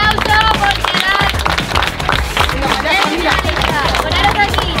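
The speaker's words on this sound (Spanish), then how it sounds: "un aplauso por quedar" Children at a water park clap after a hide-and-seek round, a dense crowd of applause over busy chatter and shouting voices, loud and continuous throughout.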